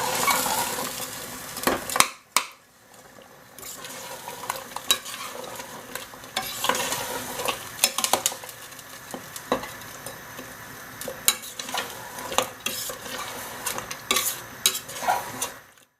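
Spinach stirred into a lamb curry in a pot: continuous close scraping and squelching of a spoon against the metal, with a few sharper knocks and a brief lull early on, no voices.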